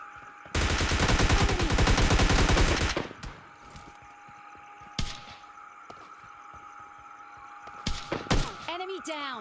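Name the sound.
gunfire in video game PUBG Mobile Lite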